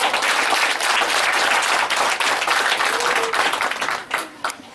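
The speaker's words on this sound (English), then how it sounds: "When you mean to clap, clap, please." A school audience at an academy event applauds steadily, dense clapping filling the whole stretch before thinning and breaking off near the end.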